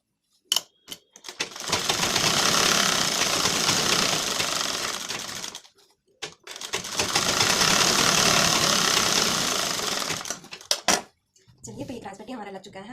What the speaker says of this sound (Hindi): अब इसमें हम डबल सिलाई दे देंगे